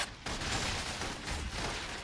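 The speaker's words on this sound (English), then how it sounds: "Requesting full suppression gunfire." Sustained gunfire from the Love and Deepspace video game, a dense continuous burst of rapid shots at moderate loudness with a brief gap near the start and no speech.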